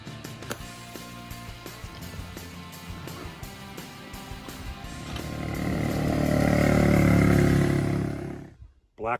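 A 1960 Italian-made motorcycle engine runs steadily on its first shakedown ride, a buzzy two-wheeler drone that swells louder and nearer midway before cutting off abruptly near the end.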